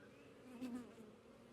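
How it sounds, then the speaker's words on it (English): A steady, low buzzing of many honeybees hums close by at a hive, swelling briefly in the middle before settling back to an even drone. "Shake the bees off."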